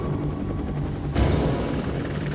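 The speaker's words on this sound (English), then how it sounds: "4 helicopters with team members aboard depart Fort Bliss" Steady loud helicopter rotor drone with a whining engine tone, swelling slightly as the aircraft power up and take off, continuous throughout.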